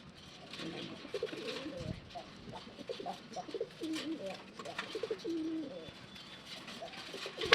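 A male Kaldom pigeon courting a female gives repeated low, throaty coos at close range, rising and falling in short runs, with some speech mixed in.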